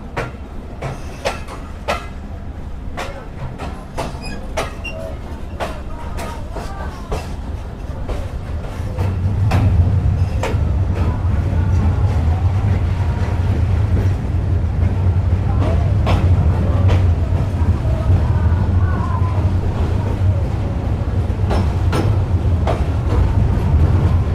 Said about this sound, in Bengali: এক ঘন্টা 21 মিনিটের বিলম্ব নিয়ে আমাদের ট্রেন ছেড়ে গেল আহসানগঞ্জ রেলওয়ে স্টেশন থেকে।